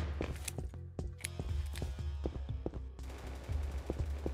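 Rapid automatic gunfire rattles through a Battlefield 2042 team deathmatch, bursts of shots repeating closely over a dense battlefield din with faint footsteps.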